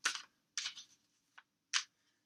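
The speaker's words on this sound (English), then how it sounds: "I'm going to shuffle the cards here" Tarot cards are shuffled in short crisp riffling bursts, four quick papery flurries separated by brief pauses, close and fairly quiet with no talking.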